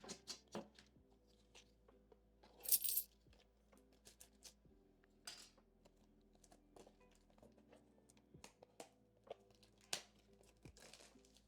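Foil trading card packs for football cards are torn open and crinkled at close range in quiet surroundings, with a sharp rip, scattered rustles and soft handling taps spread through.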